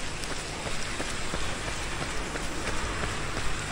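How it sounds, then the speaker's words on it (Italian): Steady rain falls during a trail run through a park, a dense even hiss with scattered close drops pattering throughout, with no voices. "qui non smette di piovere."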